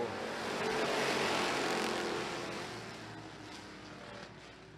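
Engines of eight Hobby Stock race cars at a dirt-track feature roar together at the green flag start, a broad sustained rumble that swells early and then fades slightly as the pack pulls away.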